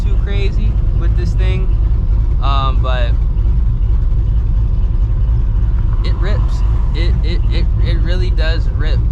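Cammed, ProCharged 1999 Ford Mustang GT on a hard third-gear pull from a 40 mph roll, a loud, steady engine roar rising in pitch throughout, with a voice talking over it.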